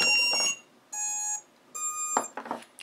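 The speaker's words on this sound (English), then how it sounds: "I think I heard a beep that wasn't there before." A newly installed buzzer on an Eachine Wizard X220 racing drone gives several loud electronic beeps, each roughly half a second long with short gaps between them.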